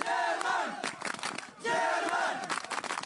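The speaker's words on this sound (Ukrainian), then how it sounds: "Мігранти вигукують «Німеччина»" A crowd of migrants shouts in unison, two loud rising chants of a single word separated by a short lull, with scattered yells in between.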